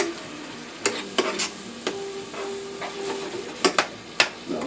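Mango ginger chutney chicken stirred in a hot pan, a steady close sizzle under a series of sharp spoon scrapes and clacks against the pan, with no talking.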